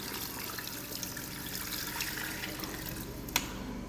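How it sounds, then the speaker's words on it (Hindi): Water is poured from cups into a cooking pot of browned meat for nihari, a steady close splashing and trickling flow running throughout with one brief sharp clink near the end. "तो अब इसमें हम डाल देंगे 6 कप पानी।"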